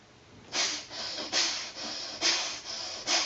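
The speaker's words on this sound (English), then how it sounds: "So you can hear the sound, both inhale and exhale, very forceful sound" Forceful rhythmic bellows breathing through the right nostril, strong inhales and exhales alternating in an even pace of about six rushing breaths, close and alone.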